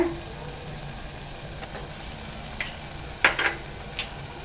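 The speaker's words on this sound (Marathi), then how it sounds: "वाटप पण ना तेलावरती असं परतून घेऊया" Malvani masala paste being sautéed in oil for a mutton curry, a low steady sizzle with a few sharp spoon scrapes and knocks against the pan near the end, close up, without speech.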